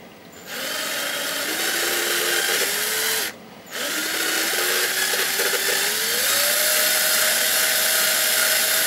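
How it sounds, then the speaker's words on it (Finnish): A power drill whirs loudly while boring a hole to fit switches, its motor pitch rising and falling, with a brief pause before it starts up again. "Sitten porataan tohon reitä."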